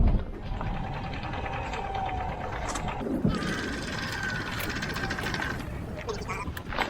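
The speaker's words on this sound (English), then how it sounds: "then I'll run over with the sewing machine to make sure it's on nice and sturdy" A sewing machine stitches sail tape in a steady mechanical whir, running continuously at close range with a brief change in pitch partway through.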